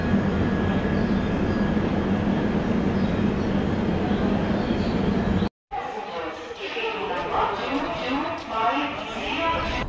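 A train pulls into New Bongaigaon railway station, a loud sustained rumble and rolling clatter of wagons, then after a brief cut quieter station ambience with murmuring crowd chatter.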